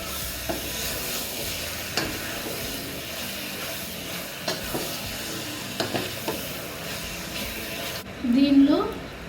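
Mutton with green chillies frying in a pan, a constant sizzle with periodic scraping stirs every couple of seconds, and a voice speaking briefly near the end.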